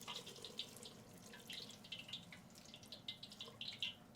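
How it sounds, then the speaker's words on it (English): Vegetable broth, a full quart, pouring into a pot for khao soi noodle soup: faint liquid splashing and trickling with irregular bright bursts, close by and unaccompanied by talk. "Just about ready to add our vegetable broth to it."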